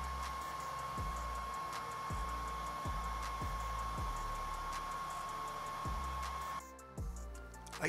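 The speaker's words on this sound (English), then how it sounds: "Before the next step, I dry it with a hair dryer." Hair dryer drying a painted fishing lure, a steady whirring blow with a high whine and rhythmic low thumps, running continuously before cutting off near the end.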